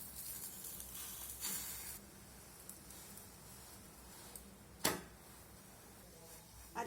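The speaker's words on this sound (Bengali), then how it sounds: "একই রকমভাবে বাকি পরোটাগুলো ভেজে নেব।" A paratha frying in a pan with little oil gives a faint, steady sizzle, broken by a few soft clicks and one sharper tap partway through.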